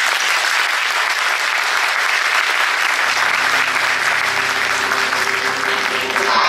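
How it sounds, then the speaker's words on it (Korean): Audience at a Saturday dawn church service applauding, dense continuous clapping sustained throughout at a loud, even level. "우리 뜨거운 감사와 영광의 박수 한번 해드리도록 감사드립니다"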